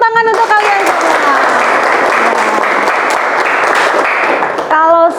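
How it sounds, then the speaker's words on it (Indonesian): Students in a classroom break into a burst of clapping that fills most of the moment, loud and close, framed at the start and end by a teacher's voice. "beri tepuk tangan untuk kalian semua"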